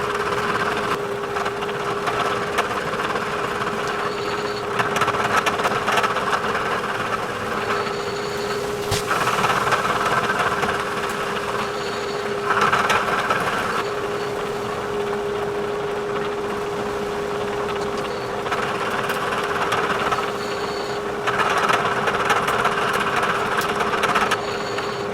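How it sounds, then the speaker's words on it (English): A Bridgeport milling machine cuts a vise stop to length, giving a steady, loud grinding whir with a constant motor tone that swells and eases in several passes, with no talking. "I'm going to flip it and I'm going to mill it to length."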